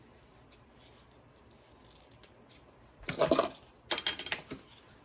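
Scissors snipping ribbon while making a large bow, a quiet room with a few small clicks, then two short bursts of close, crisp cutting.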